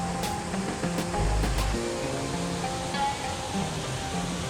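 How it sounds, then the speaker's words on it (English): A small waterfall in Goa pours into a ditch, a steady close rush of splashing water with no talk. "as water flows in this ditch from all the three sides"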